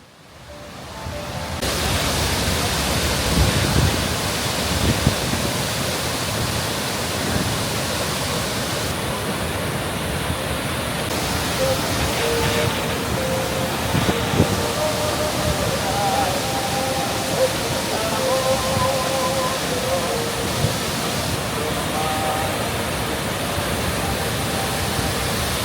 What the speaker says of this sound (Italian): The fall of waters, rapid as the light, the flashing mass foams, shaking the abyss.